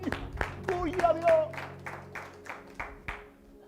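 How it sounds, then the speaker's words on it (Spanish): A church congregation applauds during a sermon, with scattered hand claps that thin out over a few seconds while a voice speaks. "Por favor, un aplauso para esta gente."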